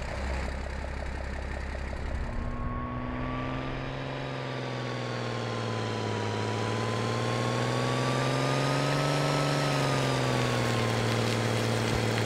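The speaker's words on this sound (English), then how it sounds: "Take a listen to the engine." A British armoured reconnaissance vehicle's engine, the Scimitar in the game Squad, runs steadily with a deep droning hum and rising, falling pitch as it revs, loud and alone without talk.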